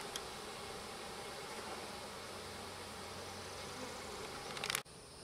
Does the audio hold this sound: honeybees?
yes